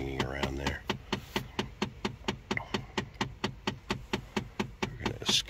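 A loose blend door inside a car dashboard knocks in a steady, rapid rhythm of sharp taps, close and clear, continuing throughout with a brief tone at the start.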